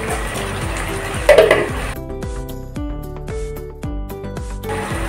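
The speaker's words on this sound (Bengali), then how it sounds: "আলুগুলো দেওয়ার পর এইভাবে করে 2 মিনিট মতো কষিয়ে নেব।" A metal spoon stirs fried potatoes in a pot for egg biryani, repeated scraping clinks in a steady rhythm over a soft sizzle, close and fairly loud, with no talking.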